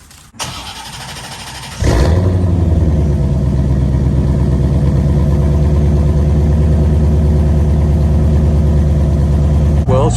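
A C4 Corvette with its mufflers deleted cranks briefly and fires into a loud, throaty idle. The idle holds steady and rumbling before it cuts off at the end.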